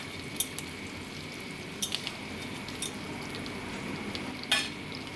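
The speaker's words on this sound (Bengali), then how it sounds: "তো দেখো আমার রসুন আর পেঁয়াজটা ভাজা হয়ে গেছে" Garlic and onion fry in a pan with a quiet, steady sizzle, with occasional light clinks and scrapes of stirring, close and low in level, no talk.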